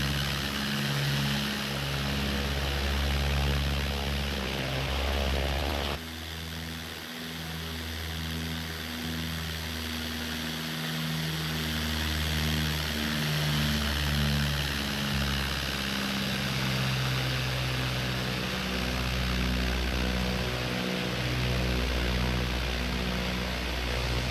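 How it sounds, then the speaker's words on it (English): Propeller aircraft in an Orbx flight simulator scene over Queensland, its engine a loud, steady droning hum with a layered harmonic whine, shifting pitch slightly a few seconds in and holding continuously throughout. "Not a bad little aircraft, you ask me. I'll let you listen to it for a bit."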